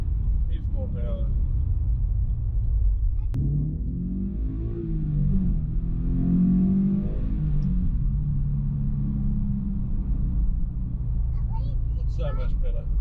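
A Subaru BRZ with Pro Speed Racing unequal-length catless headers and an off-the-shelf tune rumbles loudly throughout, its deep exhaust rising and falling in revs, with a voice talking over it.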